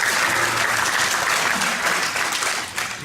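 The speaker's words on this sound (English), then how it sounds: "give yourselves a hand, a round of applause" A crowd at a regional organization's gathering claps in a full, steady round of applause that tapers slightly near the end.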